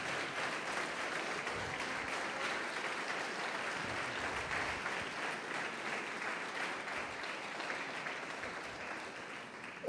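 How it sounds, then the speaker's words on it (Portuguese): A church congregation applauds for Jesus during a sermon on family stability, an even wash of many hands clapping, moderately quiet and steady for the whole stretch, with a sharp knock at the very end. "Pode aplaudir o Senhor Jesus e glorificar a Deus"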